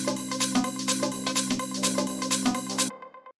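A short tech house synth one shot plays inside a full, dense mix, with steady driving beats and layered tones throughout before the mix cuts off abruptly near the end.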